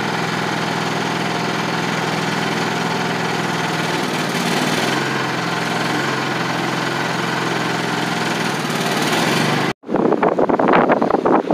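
A 2004 Chevrolet Trailblazer LS engine idling steadily and loudly up close, a dense constant drone that cuts out abruptly near the end before a rough restart.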